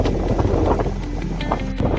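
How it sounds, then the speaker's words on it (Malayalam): Strong wind buffeting the microphone outdoors in Canterbury, England, a loud continuous rumbling roar with gusty fluctuations throughout. "ഭയങ്കര കാറ്റ്."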